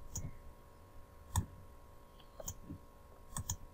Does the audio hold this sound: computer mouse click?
yes